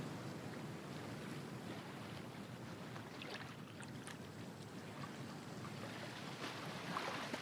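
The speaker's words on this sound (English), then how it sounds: "the sounds of the ocean reaching their ears once more." Steady ocean surf washes on a fine beach in a continuous broad roar, with wind mixed in and faint swells rising and falling, moderately distant and unbroken throughout.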